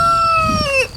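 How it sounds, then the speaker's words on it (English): Two farm roosters crowing as daylight dims during an eclipse, a single long, loud, drawn-out crow close by with falling harmonic tones, low rustling farmyard noise underneath. "now both of my roosters have started crowing"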